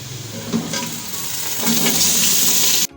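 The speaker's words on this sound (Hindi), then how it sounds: "हम इसके अंदर मटन ऐड कर देंगे।" Mutton sizzles and fries in a pan with browned onions and curry leaves for a Punjabi aloo gosht curry, a steady close hiss with light stirring scrapes throughout and no talking.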